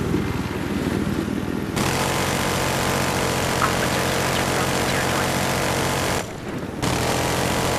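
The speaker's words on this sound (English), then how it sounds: "It's an attack chopper!" An attack helicopter in the Battlefield Hardline video game drones on loudly and steadily, its rotor and engine noise filling the scene with one brief dip before resuming.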